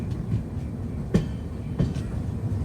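Train rumble at Chennai Central station, the Southern Railway headquarters terminus, a steady low rolling drone with two sharp metallic clanks from the wheels, heard alone with no talk.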